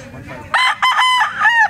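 A rooster, a stag gamecock, lets out one loud, close crow in several strained bursts, standing alone after faint background sounds.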